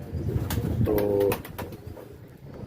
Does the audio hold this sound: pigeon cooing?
yes